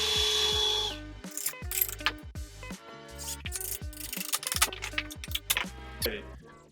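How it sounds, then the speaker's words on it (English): A power drill drives screws through the bottom of a window jamb into the casing while window trim is pre-assembled, with a series of short, close whirring bursts separated by brief pauses and light wooden knocks. "screw through the bottom of my jamb into my casing"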